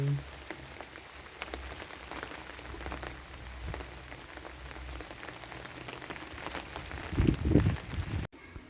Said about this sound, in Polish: Słuchajcie się, jakie dźwięki wydaje deszcz